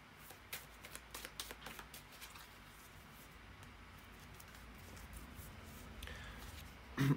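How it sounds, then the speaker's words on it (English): A deck of tarot cards is shuffled near the microphone: soft riffling and flicking in quick bursts early on, then a quieter steady shuffle that rises toward the end, with no talk. "bear with me just a second, guys, to shuffle the cards"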